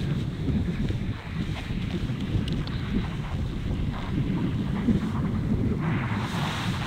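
Strong wind buffeting the microphone on a golf course at Tavistock Golf Club, a loud continuous low rumble throughout with no voices.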